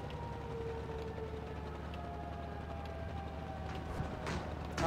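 A base-capture alert from the tank battle game World of Tanks Blitz sounds as a faint, sustained siren-like tone over a steady low engine rumble.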